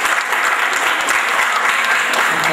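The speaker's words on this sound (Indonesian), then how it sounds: "Tepuk tangan dari sang atlet" A hall full of seminar attendees breaks into sustained, dense clapping, loud and even throughout, with no voices over it.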